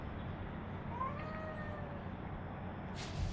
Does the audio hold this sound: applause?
no